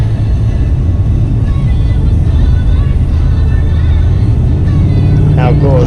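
A car drives along a beach on the Texas coast at Bolivar Peninsula with a loud, steady engine and road rumble filling the whole stretch, and a voice speaks over it near the end.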